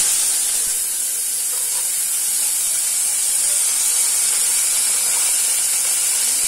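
Garlic, tomatoes and green chillies go into hot oil already tempered with cumin and a cinnamon stick, producing a constant, even, close hiss of sizzling with no voices.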